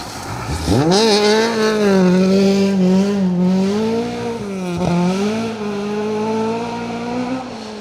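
A Mark II rally car on a gravel stage at the Greystoke Stages rally gives a loud, close engine roar. The pitch climbs sharply at the start, holds high and strained, then dips briefly as it shifts down before pulling again.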